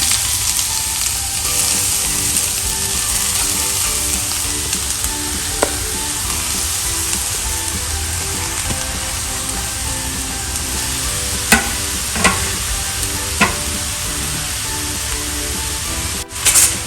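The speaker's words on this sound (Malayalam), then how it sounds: "നമുക്കിതൊന്ന് പതുക്കെ ഒന്ന് ചെറുതായിട്ട് ഇളക്കി കൊടുക്കാം." Carrots fry in a pan with a steady, close sizzle, broken by a few sharp scrapes and taps as they are stirred; no one speaks.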